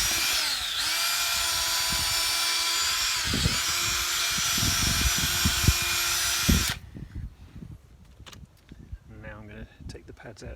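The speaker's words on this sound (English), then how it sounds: "I'm going to clean up all this area with this brush" A stiff brush scrubs around the front brake caliper of a Mercedes R170 SLK, loud and steady, giving way to quieter intermittent scraping and workshop noise in the final seconds.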